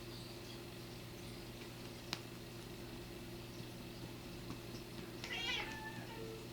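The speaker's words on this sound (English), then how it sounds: "Hello, cat. What do you want? You want in my lap, don't you?" Domestic cat meowing once briefly near the end, faint against a steady background hum, with a single sharp tap earlier; no talking during the sound.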